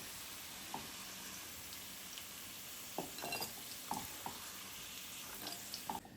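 White chickpeas fry in a pan over a medium flame, a soft, fairly quiet sizzle broken by occasional light scrapes and clinks as they are stirred, with no voices.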